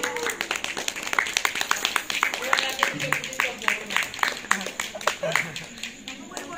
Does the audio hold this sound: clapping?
yes